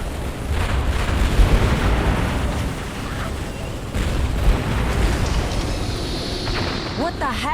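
Ordnance strike explosions rumble through a Halo Wars battle, a sustained series of loud, dense booms with heavy low-end bursts spread across the whole stretch.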